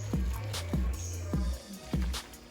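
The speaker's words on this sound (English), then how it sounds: "I'll go ahead and rub the seasoning in so you can see, guys." Hands rub seasoning into raw oxtail, making soft wet squishes and slaps in a slow repeated rhythm, about four strokes, close and quiet.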